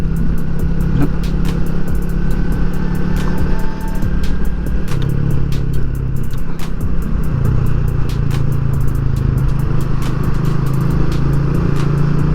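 Steady road traffic of many cars rolling past near Kelana Jaya, heard from inside a moving vehicle, with a continuous loud engine and tyre rumble throughout and no clear breaks.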